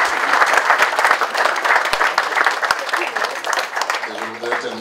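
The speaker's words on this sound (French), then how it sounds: "je voudrais que vous les applaudissiez pour les efforts qu'ils font" An audience at a Chadian delegation gathering applauds in a dense, steady wave of clapping, with a voice speaking as the applause tails off at the end.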